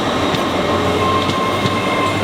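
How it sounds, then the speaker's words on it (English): A new LNER Azuma passenger train departs a station, a steady loud rumble of wheels and rail noise with faint rhythmic clicks and a thin squeal, no voices. "As if on cue, a brand new shiny Azuma is leaving next"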